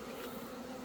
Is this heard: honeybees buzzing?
yes